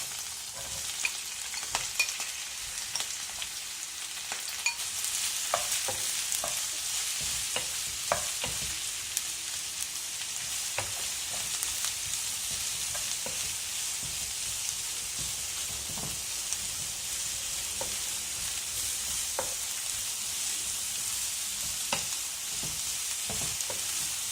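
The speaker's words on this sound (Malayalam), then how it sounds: "ഇതിലേക്ക് നമുക്ക് സ്ലൈസ് ചെയ്ത് വെച്ചിരിക്കുന്ന ഓണിയൻസ് ചേർക്കാം." Sliced onions sizzle and fry in a pan for a mixed vegetable kuruma, a steady bright crackle broken by occasional scraping stirs, close and continuous, with no voices.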